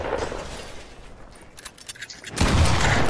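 Shotgun blasts in the Fortnite video game: a loud broadband burst at the start, scattered lighter cracks in the middle, then a heavy sustained blast near the end.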